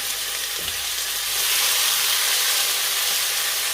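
A blended onion, garlic and ginger paste for beef curry hits a hot pot with a steady, close sizzle that swells louder about halfway through and keeps hissing.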